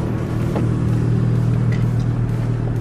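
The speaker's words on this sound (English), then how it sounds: "here she is pulling up now in this big body Chrysler" A big-bodied Chrysler car pulls up nearby, its engine a steady low rumble throughout with a faint rise of revving, loud and close with no one talking.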